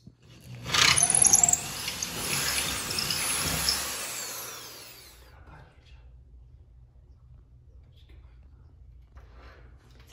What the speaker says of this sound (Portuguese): aquela broca grande você tem que furar aqui ou lá na parede?